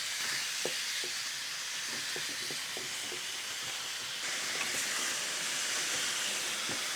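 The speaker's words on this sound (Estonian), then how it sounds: "Praeme lihtsalt kergelt läbi, ega me praegu küpseks ei prae." Meat sizzles in a pot as it is lightly browned for Afghan goulash soup, giving a steady, loud hissing fry with scattered small pops and crackles throughout.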